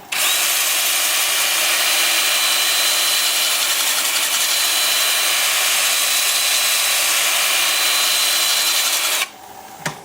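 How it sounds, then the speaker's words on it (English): Steady, loud mechanical whirring and broadband hiss from a wood lathe spinning at about 340 rpm run continuously, then cut off near the end with a brief clunk. "And then with the lathe spinning forward at about 340."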